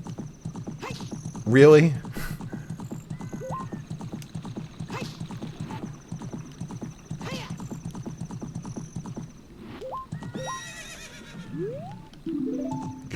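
A horse in the video game Ocarina of Time trots with a steady clip-clop rhythm and lets out a loud neigh near the start. A person speaks briefly over the hoofbeats, and short in-game chimes follow.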